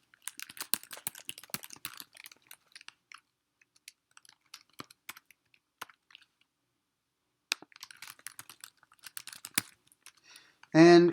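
Bursts of close computer keyboard typing come in rapid clicking runs, pause in the middle, then resume, ending with a brief spoken voice.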